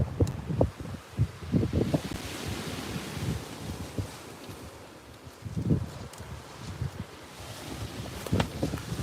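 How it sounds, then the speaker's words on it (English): Gusty wind buffets a fishing rod outdoors, roaring steadily with irregular low thumps and surges of rumble throughout, no voices. "Wind's playing havoc on the rod tip"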